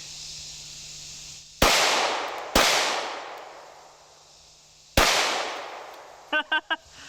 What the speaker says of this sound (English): Should we shoot that peach? Let's do it.